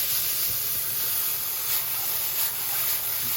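Romanesco pieces added back into a hot oiled pan, giving a steady loud hiss and sizzle that holds evenly throughout with no talking.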